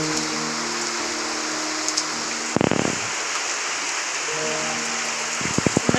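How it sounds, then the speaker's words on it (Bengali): Heavy downpour of rain produces a steady, even hiss throughout, with a couple of brief louder sounds rising over it. "বৃষ্টি দেখো কেমন মুষলধারে বৃষ্টি পড়ছে।"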